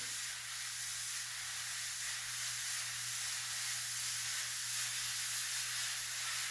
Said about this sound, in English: You do not want to just be spraying it like this, because you will end up with a rectangle on your shirt.